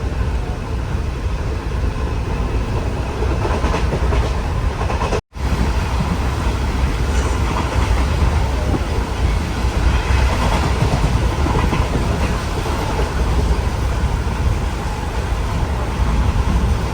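A Jan Shatabdi Express running at about 110 km/h between Thiruvananthapuram and Ernakulam, heard from inside as a loud, unbroken roar and rumble, with one split-second dropout partway through.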